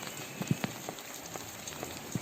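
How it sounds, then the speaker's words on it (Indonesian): Heavy rain pours onto an outdoor fish pond during the rainy season, a soft continuous hiss broken by scattered individual drop splashes, fairly faint and with no voices. "Apabila memang curah hujan tinggi seperti ini"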